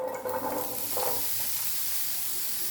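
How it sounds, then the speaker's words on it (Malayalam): Chopped ridge gourd sizzles in hot coconut oil in a frying pan, a close, steady hiss with a brief sputter as the pieces go in. "എന്നിട്ട് നമ്മുടെ ഈ പടവലങ്ങ ഇട്ട് കൊടുക്കാം."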